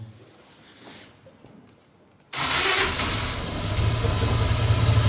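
A Mondial Road Boy 125 motorcycle engine with a starter fault cranks and catches abruptly, then settles into a loud, steady idle close by, with a quiet lead-in before it fires.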